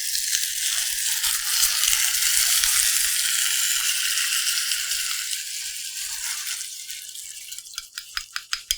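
Sauce poured into a hot pan of well-fried Korean seasoned dumplings (yangnyeom mandu) sizzles in a loud, close, steady hiss that slowly eases, ending in a few sharp crackles.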